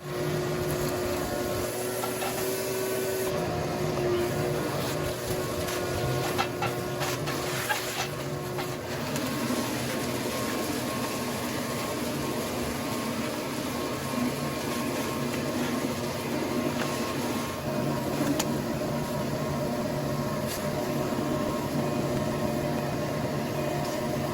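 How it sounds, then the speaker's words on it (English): A shop vac sucks debris out of an old Craftsman 9 HP snowblower, a continuous loud roaring whir of motor and airflow running steadily throughout with no talking. "I guess I'll grab the shop vac and vacuum all this mess out"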